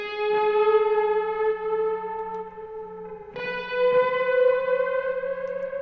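A reversed guitar chord progression through a guitar rig with an AC-style amp and heavy reverb, sustained tones swelling backwards in two long phrases, loud and alone with no talk.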